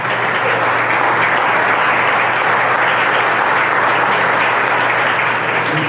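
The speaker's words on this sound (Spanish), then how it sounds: "Un aplauso para él, por favor." A conference audience applauds in a dense, loud, sustained wash of clapping that holds steady throughout with no voices over it.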